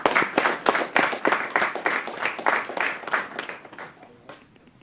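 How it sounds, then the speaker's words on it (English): An audience at a celebration for a television director applauds, a dense burst of clapping that starts loud and gradually fades out over a few seconds. "I want to applaud you again today for this."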